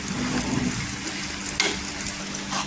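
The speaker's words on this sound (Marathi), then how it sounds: "छान असं तेलावर परतून घ्यायचं" Small fish sautéing in oil over a slow gas flame, a steady close sizzle and frying hiss running throughout with a brief stirring clatter midway.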